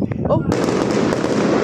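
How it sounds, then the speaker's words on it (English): New Year's fireworks burst outdoors in a dense, continuous crackle of pops and bangs, loud and sustained after a brief lull, with a person's short exclamation at the start. "I'm telling you, they're beautiful fireworks."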